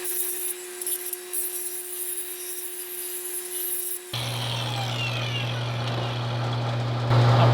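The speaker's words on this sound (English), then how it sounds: "I can use the grinding side of this disc to clean up the pipe" A Duodisc cutoff wheel on an angle grinder grinds pipe, a steady loud whine that shifts into a rougher, lower grinding tone partway through and holds on, close by.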